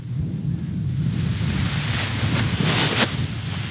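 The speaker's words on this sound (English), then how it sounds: "And it's really windy" Strong wind roars steadily across the microphone while a paraglider wing inflates, a heavy continuous buffeting rumble with gusty surges that swell louder toward the end.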